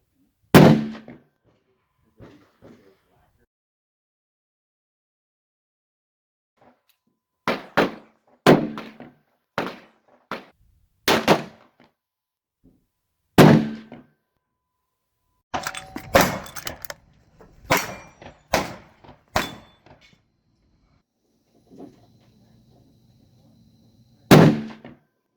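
Gunfire at a shooting range pops in scattered, fairly sharp reports, some single and some in quick clusters, with quiet gaps between them.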